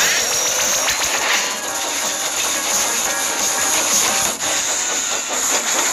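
A steam train chugs along in a Thomas and Friends adventure video game, producing a loud, continuous hissing engine rush that runs steadily with no talk.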